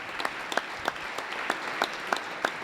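Rapid, steady audience applause fills a large hall during a governor's State of the State address, with sharp clap bursts repeating about every third of a second over a dense crowd wash.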